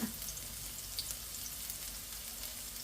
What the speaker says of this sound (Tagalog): So unahin ko yung bawang. Gisa ko lang ng bahagya.